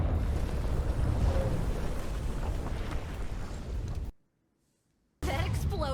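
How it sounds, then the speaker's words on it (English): Explosion in the video game Hard West 2, a loud sustained roaring blast with rumbling debris that fades over about four seconds, cut to near silence, then another burst of noise. "That explosion was wild."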